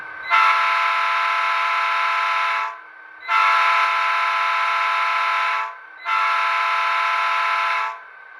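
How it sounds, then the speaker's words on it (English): Long horn from an Athearn Southern Pacific SD45T-2 model locomotive's sound system, three loud, sustained blasts of about two and a half seconds each, separated by short gaps, with no talking. "F2 is a longhorn, and this is probably going to be ear deafening as well."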